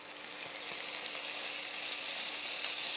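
Chilli beef sizzling in a pan, a steady hissing crackle held at an even, fairly quiet level for a few seconds, with no one speaking.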